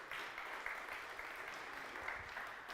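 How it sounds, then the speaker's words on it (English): Faint but steady applause from a small gathering at an Easter youth church service, an even patter of clapping heard at a distance and sustained for a few seconds. "Round of applause."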